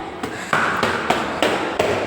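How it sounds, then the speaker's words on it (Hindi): Steady hammering from construction work inside a residential society clubhouse, five or six evenly spaced heavy knocks about every third of a second, loud and near against a constant background hum. "अभी यहाँ पर थोड़ा कंस्ट्रक्शन का काम चल रहा है,"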